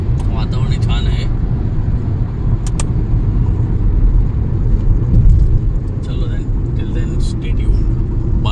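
A car cruises smoothly along the road from Mumbai to Chiplun in the Konkan region early in the morning, a steady loud engine and road rumble heard from inside, with a few brief higher sounds over it.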